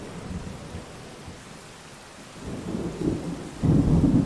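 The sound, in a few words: rain and thunder in Rain World video game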